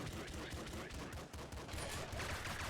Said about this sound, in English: I'm just going to keep shooting him with my poxy little pistol.